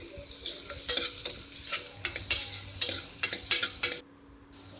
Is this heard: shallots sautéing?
yes